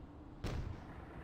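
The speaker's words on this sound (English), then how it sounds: "Very well predicted nade" A grenade blast in a competitive team first-person shooter match: one sudden, heavy boom that strikes abruptly and then decays into a broad, sustained rumble, with no voices in the clip.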